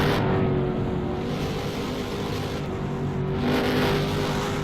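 ROX MOD race cars accelerating under green at the Patriot Grand Prix, a dense continuous engine roar from several cars that swells and shifts as the field passes.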